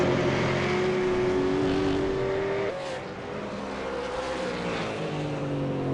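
A V8 Supercar in a racing video game at Road Atlanta screams through a hot lap, its engine note holding steady, then dropping sharply on a gear change before climbing again, loud and close throughout.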